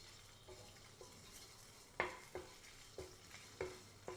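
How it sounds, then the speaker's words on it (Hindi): Garlic ginger paste sautés in a little oil in a pan, with a soft steady sizzle broken by a handful of light scraping stirs of a utensil against the pan, fairly quiet and with no voices. "इसके साथ ही हम इसमें लहसुन अदरक का पेस्ट डाल देंगे और इसको हल्का सा"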